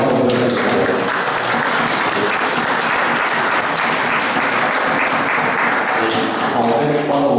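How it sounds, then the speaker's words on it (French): Audience applause at a French public gathering, a dense sustained round of clapping from a crowd lasting throughout, loud and close, with some voices mixed in beneath it. "je crois qu'on vous applaudit."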